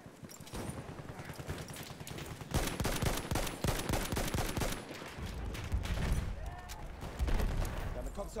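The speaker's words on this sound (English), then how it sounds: "He's shooting out the window." Rapid gunfire in Battlefield 1 during a Zeppelin assault, with an enemy shooting out of a window from inside a building: dense bursts of shots crackle throughout, some bunched into machine-gun strings, over a busy battlefield rumble.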